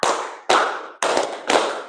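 Hands clap in a deliberate pattern, four loud, distinct claps spaced about half a second apart, each ringing briefly in the room before the next.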